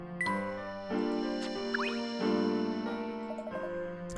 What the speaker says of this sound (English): Bells start ringing, hopefully.